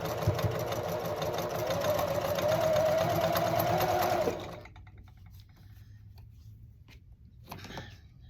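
A sewing machine fitted with a quarter-inch foot stitches an Ohio Star quilt block, a steady rapid mechanical whir for about four seconds before it stops, leaving quiet room noise.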